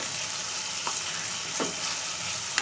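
Onions and tomato sautéing in a pan for drumstick poricha kuzhambu, a steady soft sizzle with a few faint scrapes of stirring, close and continuous.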